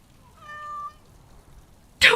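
A pet cat named Sir Pouncelot meows once in a video game, a clear, tonal, slightly drawn-out cry. A brief burst of noise cuts in near the end.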